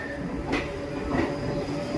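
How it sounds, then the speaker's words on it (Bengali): A local MEMU train pulls away from a platform at Jasidih Junction, a steady low rumble of rolling rail cars with faint wheel clatter and brief squeals, heard fairly close with no talk. "ট্রেনটা কিন্তু ঝাঁঝার দিকে চলে গেল"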